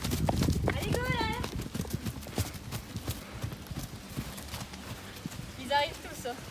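Ponies walk around a stable yard, their hooves clip-clopping steadily at close range while someone talks over them, with a brief whinny toward the end.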